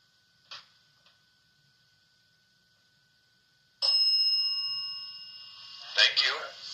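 Inside the historic 1912 Hoover House, a small bell gives a faint tap early on, then rings out clearly with a long shimmering decay and is struck again near the end, with near silence before it.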